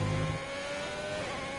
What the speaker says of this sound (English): Oh no, you just hear the revs are so low.